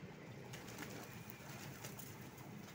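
Domestic pigeons kept in a home coop coo softly and faintly, a low murmuring call repeating over a steady hiss of background noise, with nobody speaking.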